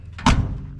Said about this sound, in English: The doors open and shut